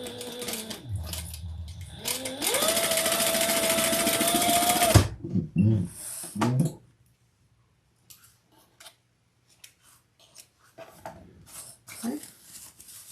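A sewing machine stitches seams on a custom bag, running in a loud steady whir for several seconds before stopping, followed by quieter handling clicks and rustles.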